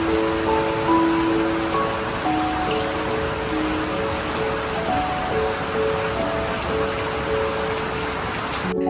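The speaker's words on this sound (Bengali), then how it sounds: "একটু বাদেই ধীরে ধীরে অন্ধকার হয়ে এলো এবং শুরু হলো বৃষ্টি।" Evening rain falls steadily at Rolep, a dense, even patter on surfaces that continues without a break while a soft melodic tone plays faintly underneath.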